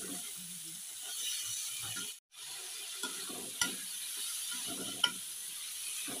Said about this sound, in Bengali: ফুলকপি আর আলু একসঙ্গে কষা হচ্ছে, ভালোভাবে কষিয়ে নেব।